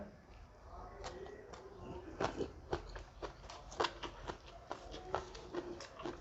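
Close, quiet crunching bites and chewing of spicy Lao-style papaya salad, a string of soft crisp clicks at an uneven rhythm over faint room noise.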